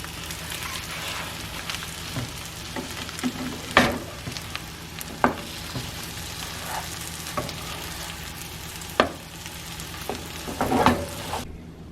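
An egg sizzles in a frying pan after being flipped, a steady close frying hiss broken by several sharp pops and scraping stirs, with no voices.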